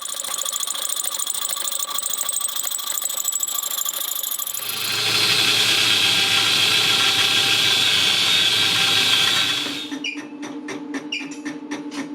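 Lathe turning a welded steel motor plate for a 2x72 belt grinder build, a steady loud machining hiss and rattle that swells in the middle and eases back toward the end, alone without talk.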